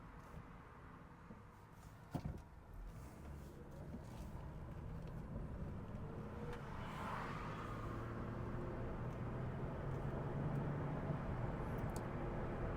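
A Honda driven on the road at auction test drive gives a quiet, steady interior rumble of engine and tyre noise that builds slightly over time, with a single faint knock early on.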